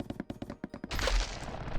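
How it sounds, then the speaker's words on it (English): Explosion from a branch being cut down while chopping mangrove trees in Hypixel Skyblock, a sudden loud burst that follows a run of quick rhythmic chopping hits. "Did you just hear that explosion?"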